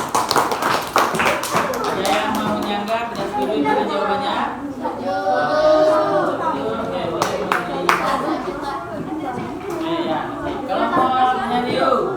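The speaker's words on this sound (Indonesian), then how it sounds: "Beri tepuk tangan." Scattered applause from a room of people, clapping unevenly over lively chatter and voices throughout.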